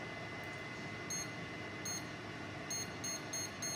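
A kitchen timer beeps in short high-pitched bursts, faint and somewhat distant, in irregular clusters over a low steady background hiss, with no talking.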